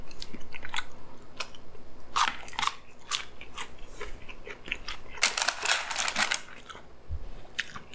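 Crisp, close crunching and chewing of chicken nuggets, irregular bites and crackly chomps repeating for several seconds, loudest bursts clustered near the end, with no talking.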